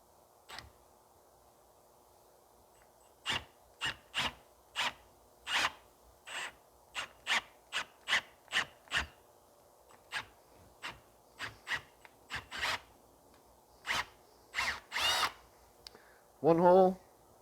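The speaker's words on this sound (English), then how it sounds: "So we'll just drill those out." Short repeated bursts of a power drill boring holes in a rear bushing for an Endeavor 1, running in quick separate pulses with quiet gaps, plus a brief rougher burst at the end.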